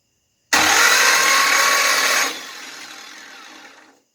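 Chrysler 318 V8 engine spun over to pump out its oil, a loud, steady mechanical whir starting abruptly, holding about two seconds, then dropping to a quieter continuous hiss that fades out.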